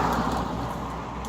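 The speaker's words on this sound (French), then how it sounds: "Je vais attendre, il y a une voiture qui passe." A car passes outside as a steady, broad low rumble and whoosh, moderately loud and fading slightly over a short stretch, with no voices.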